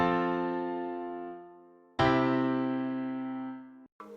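A plagal cadence played as two sustained chords, the IV chord ringing and decaying, then the I chord struck and held to resolve before a brief cutoff, clean and with no speech.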